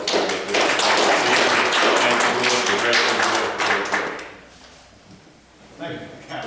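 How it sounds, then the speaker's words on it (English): A room of people at a community substance abuse prevention coalition meeting applaud their director, a dense burst of clapping that fades after about four seconds before a voice begins to speak. "And I think he deserves a round of applause."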